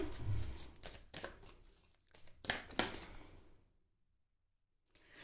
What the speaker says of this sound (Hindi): ओके, एक और कार्ड लेते हैं।